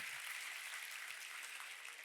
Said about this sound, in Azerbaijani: Onlara bir böyük alqış izah edirəm.